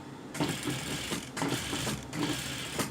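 Sewing machine running a plain straight seam on a jumpsuit, its motor whirring steadily in three close bursts separated by short pauses, loud and alone without talk.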